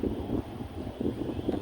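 Strong wind blows over a misty mountaintop on a trek, a low, gusting rumble buffeting the microphone in uneven surges, with no other sound.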